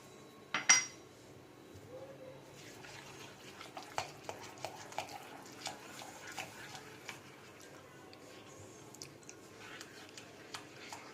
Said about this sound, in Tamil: சீனி சேர்த்ததுக்கப்புறமா நல்லா மிக்ஸ் பண்ணணும்.